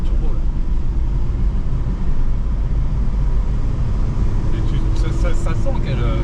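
A naturally aspirated diesel car engine with no turbo, its injection pump just re-timed, drones steadily and loudly while driving, with a brief voice sounding near the end.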